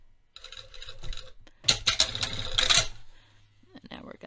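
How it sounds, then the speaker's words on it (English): Sewing machine stitching a welt pocket on trousers, going slow right beside a previous stitch line, a short close burst of rattling stitches between quiet handling sounds. "And I'm sewing just to the left of the previous stitch line where we sewed the, like literally right next to it, where we sewed the welt to the pocket."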